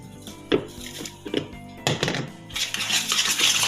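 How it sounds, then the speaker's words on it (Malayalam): Eggs and powdered sugar are beaten by hand in a bowl for a plum cake batter, producing quick irregular clinks and scrapes of a utensil against the bowl close by. "വീണ്ടും ഒന്ന് ബീറ്റ് ചെയ്യാം."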